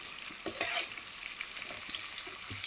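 Tempering seeds crackle and fry in hot oil for gongura dal, a steady close sizzle with a few scattered pops and brief stirring scrapes, no voices.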